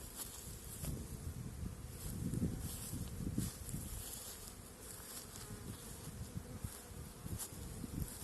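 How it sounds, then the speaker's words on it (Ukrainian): A dense swarm of honey bees around hives at an apiary set among sunflower fields gives a continuous low buzzing drone, close and steady, with occasional louder individual bees passing near and faint rustling. "Ось теж пчоли тьма."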